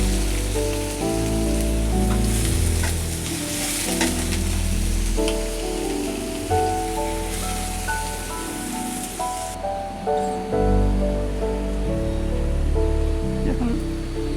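Onion frying in hot oil, a dense steady sizzle like rain on a surface that runs throughout, mixed with tonal background music and a brief lull near the end.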